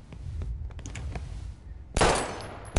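Gunfire from the video game Life Is Strange: a loud, harsh blast crashes in after a stretch of quieter game sounds, followed by a second sharp burst right at the end.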